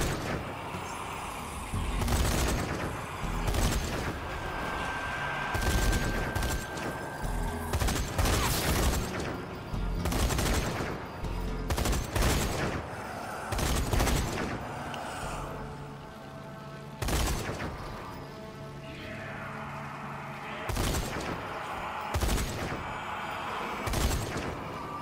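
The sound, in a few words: turret gunfire shooting zombies in video game Zombie Army 4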